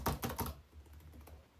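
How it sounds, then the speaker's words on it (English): A quick burst of close, crisp keystrokes on a computer keyboard during a live radio show, a few rapid taps followed by fainter scattered clicks, with no speech. "and if I type"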